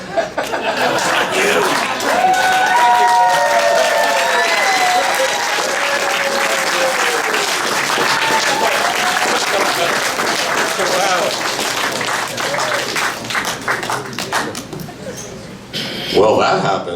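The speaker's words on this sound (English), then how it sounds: "One more round of applause" An audience at a Toronto memorial event for Mendelson Joe in March 2023 claps loudly and steadily, with whoops, laughter and scattered voices mixed in, before the applause thins and breaks up near the end.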